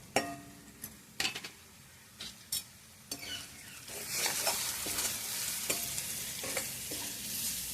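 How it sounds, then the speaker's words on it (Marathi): Grated coconut roasting in oil in a pan, a few separate scrapes and clinks of a spoon stirring, then a steady louder sizzle with continued stirring, close and without talk. "तेलात खोबरं भाजून निघतं"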